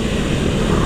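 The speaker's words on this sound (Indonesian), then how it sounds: "yang bisa lu denger di video kali ini knalpot gue" A motorcycle fitted with its standard stock exhaust runs steadily at close range, a continuous dense engine drone with no pauses and no talking.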